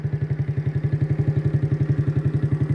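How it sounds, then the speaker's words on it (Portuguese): A motorcycle ridden slowly along the road from Itabaiana toward the village of Nicó, its engine putting out a steady, even low pulse, close and continuous with no talk over it. "Devagarinho, andando de moto."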